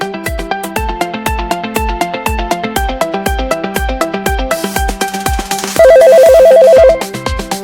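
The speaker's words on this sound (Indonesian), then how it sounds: "Tuh denger kan? Telepon di sebelah sana bunyi lagi." A telephone rings repeatedly in a busy office, each loud ring pulsing in steady rhythm over a layered electronic ringtone, with a sustained warbling tone joining near the end.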